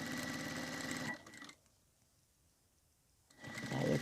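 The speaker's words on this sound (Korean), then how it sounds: "노루발 이 선에서 박음질을 또 시작해 줍니다." A sewing machine stitches a fabric wallet, a close whirring hum with rapid needle chatter that stops for about two seconds, then starts again.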